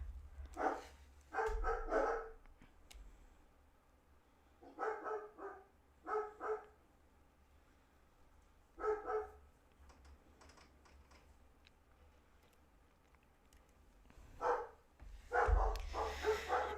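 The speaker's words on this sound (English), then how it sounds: "The dogs are going crazy." Dogs bark in several short bursts of woofs at a moderate distance, indoors or just outside, separated by stretches of quiet room tone with faint clicking like keyboard typing.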